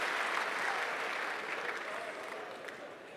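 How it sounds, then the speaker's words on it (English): Audience applause at a national launch event in Kenya, a broad, continuous wash of clapping from a large crowd heard from some distance, gradually fading over the clip. "A round of applause for Powerman."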